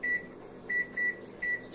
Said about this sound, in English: I'm going to set the timer over on the microwave.